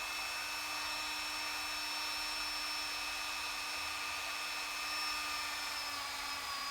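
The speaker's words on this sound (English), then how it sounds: "I've just got a grinding stone on it rather than a sanding barrel" A Dremel rotary tool fitted with a grinding stone whines steadily at a high constant pitch while working on utility belt pouches, a faint, even hum that holds unbroken for several seconds.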